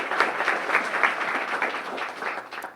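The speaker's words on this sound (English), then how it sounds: "Big round of applause for collecting" An audience at a small-town peach queen pageant claps steadily, the dense patter of many hands rising quickly and then gradually thinning out and fading near the end.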